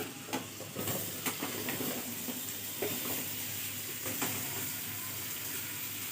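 Onions, cardamom and cloves fry in butter, giving a soft, steady sizzle at moderate distance with occasional faint stirring scrapes.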